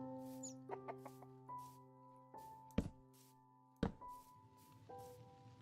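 Chickens in the video game Minecraft give a few short clucks over a sustained background tone, broken by two sharp thunks.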